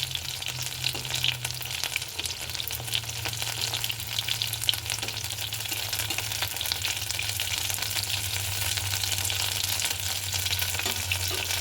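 Prawn pakoras deep-fry in oil with a dense, even crackling sizzle that holds steady and close throughout, with no talking.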